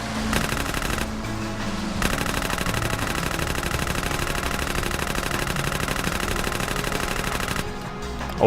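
Sustained automatic gunfire in GTA San Andreas at Pier 69, a dense, loud, rapid stream of shots that keeps going almost without a break for about six seconds.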